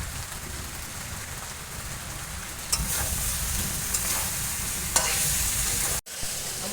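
Fried potatoes tossed into spicy chicken stir-frying in a pan with ground spice paste, giving a steady, close sizzle and stirring scrape with a couple of sharper clinks and a brief dropout near the end.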